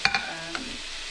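Beef fries in a pan for keto Chinese crispy chilli beef, with a couple of quick scraping stirs near the start over a soft, steady sizzle that continues briefly.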